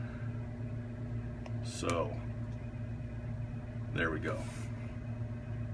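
A Sharp microwave oven rated at 1100 watts runs under power testing, giving a steady low electrical hum with tonal harmonics. Two brief bursts of speech sit over the hum.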